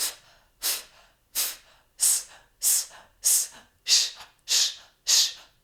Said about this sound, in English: usually you don't hear the breathing sounds. I'm doing them now for you.